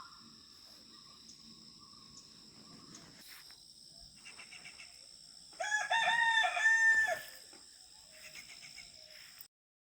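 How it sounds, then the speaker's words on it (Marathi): Morning in a village: a rooster crows loudly and close by midway through, over steady insect chirping and scattered small bird calls, with quieter calls returning near the end. "पक्ष्यांचे सुंदर आवाज इथं येत असतात"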